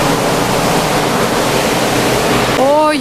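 Sea waves sound from the deck of a ferry bound for Iceland as a steady, loud wash of broadband noise with wind rush, and a few rising whistle-like tones at the very end.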